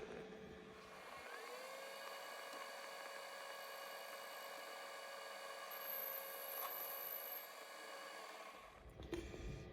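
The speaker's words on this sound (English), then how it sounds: "It's a little hard to drill." Drill boring into a piece of bronze plate, once a door kick plate, a steady high whining hum with a grinding edge lasting several seconds, then stopping with a brief clatter.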